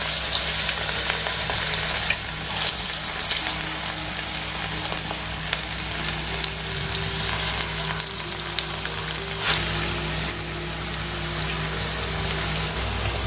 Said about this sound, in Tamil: இப்போ நம்ம காலிஃப்ளவர் ஆயிலில் சேர்த்துடலாம்.